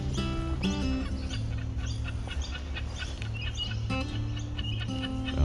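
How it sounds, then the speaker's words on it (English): Kookaburra family of recently fledged young calling by the Cumberland, a loud, continuous chorus of layered cackling and chattering calls throughout, with no talking. "Beautiful kookaburra family, mate. They've just fledged from the nest, mate."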